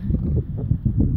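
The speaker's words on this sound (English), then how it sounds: "I know you can hear the wind in the background too, because it's really windy and cold out here." Strong wind buffets the microphone during a cold, windy outdoor bike ride, a steady low rumble with gusty surges and no clear speech.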